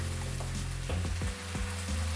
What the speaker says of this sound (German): Bratet alles an, bis sich ein aromatischer Duft in eurer Küche entfaltet.